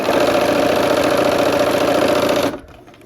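A sewing machine stitches a Christmas quilt block in a fast, even, loud whir, then stops abruptly near the end, leaving near silence.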